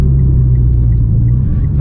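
A turbocharged Mitsubishi Evo X on the move gives a loud, steady low engine and road rumble heard from inside the car, with faint higher whistling tones riding on top.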